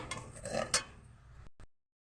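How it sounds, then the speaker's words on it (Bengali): A spatula stirs sugar and water syrup in a pan, scraping and clinking against the metal in a few uneven strokes, then falls silent. "খুন্তির সাহায্যে বারবার করে নেড়ে নেব, নাহলে নিচটায় বসে যেতে পারে"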